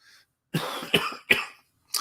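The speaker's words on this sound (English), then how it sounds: "Clear my throat." A few harsh, close throat-clearing bursts in quick succession, rough and raspy, with short pauses between.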